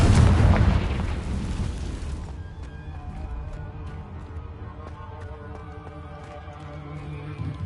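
A loud blast from the Confringo spell in the Hogwarts Legacy video game, a dense booming burst that fades over two seconds into quieter game ambience with faint ticking and clattering sounds.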